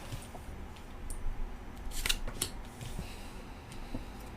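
Tarot cards drawn and handled by hand, a few quick papery snaps and shuffling rustles up close, with soft background hiss and no talking.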